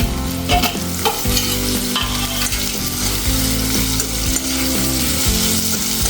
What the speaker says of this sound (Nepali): अदुवा लसुन भुटिएपछि चाहिँ अब यसमा मैले यो अघि काटेर राखेको प्याज र खोर्सानी हाल्दैछु।